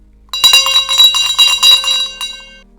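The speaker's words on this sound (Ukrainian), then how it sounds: "У руках в нас миру дзвін, неспроста у мене він." A small hand bell rings as a symbol of peace at an International Day of Peace event, shaken in a rapid, bright metallic jangle for about two seconds before it rings out and fades.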